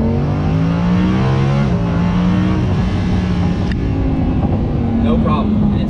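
A Lamborghini Huracan accelerates hard in Corsa mode, its engine note climbing loud and continuous from close range with voices in the cabin over it.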